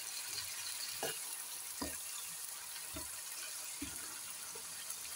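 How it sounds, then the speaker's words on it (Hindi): Chicken frying with garlic-ginger paste in a karahi for chicken gobi karahi gives a steady low sizzle, broken by four or five soft stirring scrapes and thumps, fairly quiet, with no one talking. "2 चम्मच लहसुन अदरक का पेस्ट डाल के फिर इसको फ्राई करेंगे चिकन को"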